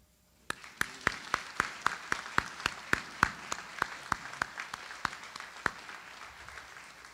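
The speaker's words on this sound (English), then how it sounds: "please join me in giving a round of applause to all of the family members that are here" Sharp individual claps ring out at a steady, moderate pace in a college graduation ceremony hall, sparse and distinct rather than a dense roar, honoring graduates' family members.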